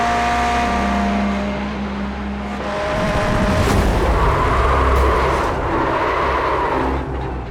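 A race car in a racing video game at the Zolder circuit holds a loud, steady engine drone, then surges into a rougher burst of noise as it slams into the wall, with scraping and engine roar afterward.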